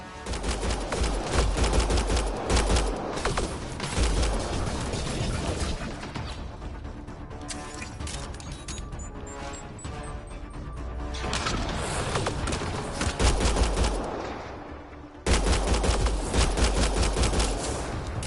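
Dense, loud bursts of rapid automatic gunfire in the video game Mass Effect Andromeda, with sustained machine-gun volleys, crashes and short pauses over a combat mix, heard up close.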